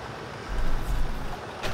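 Farm simulator game audio of a T150-9 tractor engine running at low speed, a steady low rumble with a slight swell midway and a brief hiss near the end.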